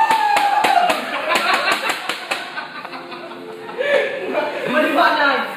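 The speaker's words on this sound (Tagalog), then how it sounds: "Bigyan po natin ng palakpak si Balbinski" Scattered hand claps burst out close by at a live contest as the winner Balbinski is announced, mixed with chuckles, laughter and overlapping voices chattering over them.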